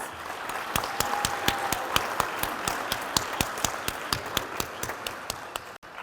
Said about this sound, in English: can everyone just give my girls a round of applause?